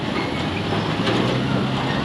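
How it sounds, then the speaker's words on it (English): A train crossing in Kampala rumbles past steadily and loudly, a continuous rolling roar with faint wheel clatter filling the whole stretch, heard outdoors without any talking. "I saw the train crossing and it is gone that other side."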